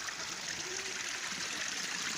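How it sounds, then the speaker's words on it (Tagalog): Water pours steadily from the source of the hot Mapaso Spring in Irosin, Sorsogon, a close, constant trickling hiss that holds at an even level with no voices. "Yan, yan yung source ng tubig dito oh."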